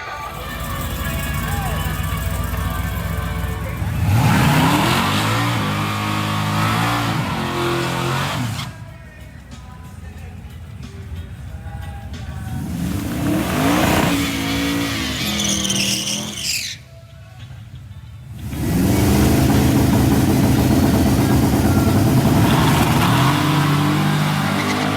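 A drag race car using a two-step launch control roars loudly, its engine revving and tires squealing through several hard launches and accelerations, with short quieter gaps and voices mixed in.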